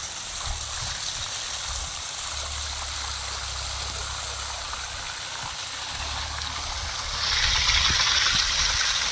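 Water from a 3 HP solar pump gushes and splashes continuously from a pipe, a steady rushing hiss with a low hum beneath, growing louder near the end.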